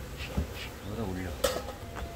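Honey bees buzzing around an opened hive at an apiary during October overwintering preparation, a faint droning hum with brief knocks of the hive being handled and some background noise.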